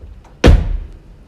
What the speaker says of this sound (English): So that's driver's door shut,